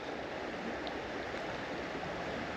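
Fast-flowing water of the River Doon, a trout stream, rushes in a steady, close, unbroken wash with no voices over it.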